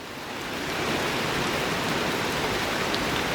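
Steady rain pours down at the base of a 173-foot waterfall, a dense, even hiss that swells in the first second and then holds constant, with no voices.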